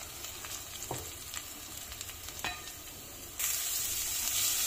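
Onions fry in oil for an aloo sangri dish, a close crackling sizzle with a few spatula scrapes, swelling into a louder, brighter hiss partway through.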